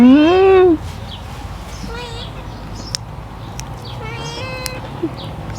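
A cat gives one loud, drawn-out meow right at the start. Quieter voices and scattered faint sounds follow it.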